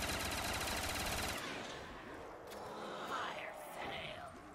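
Rapid automatic gunfire from Black Ops 3 Zombies weapons, a fast burst that stops after about a second, followed by quieter game effects and distant sounds.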